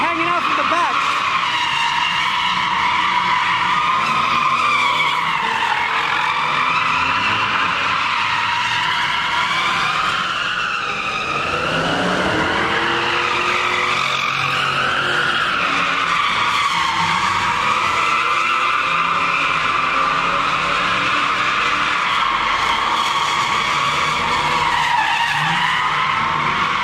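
A Mustang drifts at a crowded car meet, its tires screeching in long, wavering squeals over a roaring engine that rises and falls continuously. Voices and crowd noise are heard beneath it.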